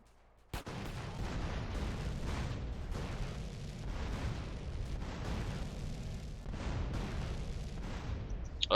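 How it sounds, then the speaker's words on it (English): Rocket launcher blasts and rolling explosions in GTA San Andreas, a sharp opening bang then a continuous loud rumble of detonations and debris without pause, no talking. "Firing rockets is fun."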